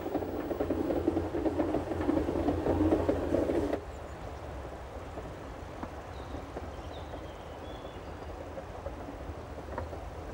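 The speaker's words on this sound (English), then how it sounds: "Our train's top speed is only 12 kilometers per hour" A slow rack railway train on the Jungfrau line climbs toward Schynige Platte, a steady rumbling drone that is louder at first, then drops to a quieter continuous hum.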